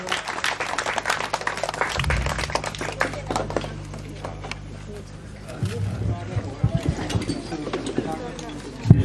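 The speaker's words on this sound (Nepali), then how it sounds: "ताली बजाएर स्वागत गरिदिन हुनका लागि हार्दिक अनुरोध गर्दछु" An audience claps to welcome a project office chief at a World Environment Day tree-planting event in Nepal: scattered, steady applause running through the clip with voices talking over it.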